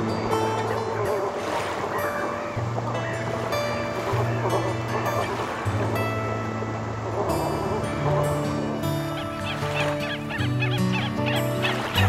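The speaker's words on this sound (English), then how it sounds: "The sight of thousands of birds was a surprising spectacle." Thousands of birds gathered at the mouth of a great lagoon river in Córdoba, a loud, dense chorus of honking calls over a constant wash of water, continuous throughout.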